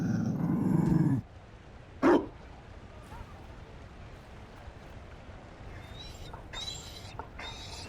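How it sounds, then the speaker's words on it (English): A Mabari war dog in Dragon Age: Inquisition gives a loud, close growl lasting about a second, then a single short bark, with faint game ambience after. "You found a dog."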